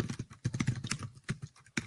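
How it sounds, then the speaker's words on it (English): Typing a web address on a computer keyboard, with rapid, close, uneven key clicks in quick bursts and brief pauses. "I'm typing it in right now."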